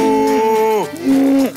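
A person imitates a cow, drawing out two voiced, harmonic moos, the first long and falling, the second shorter after a brief break, close and loud with no other talk.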